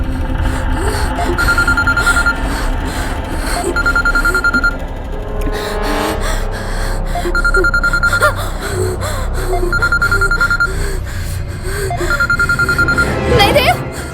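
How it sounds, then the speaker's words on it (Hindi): A telephone rings in repeated short bursts while a tense voice gasps and speaks over it, with dramatic music underneath. "प्लीज, फोन मत उठाना देव।"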